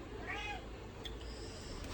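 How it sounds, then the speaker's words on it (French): A domestic cat meows once, a short drawn-out cry near the start, heard faintly and close by over a steady low background hum with a couple of small clicks afterward. "Si vous entendez le bordel, c'est les poubelles et monsieur le chat."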